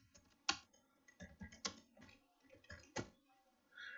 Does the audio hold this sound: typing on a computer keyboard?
yes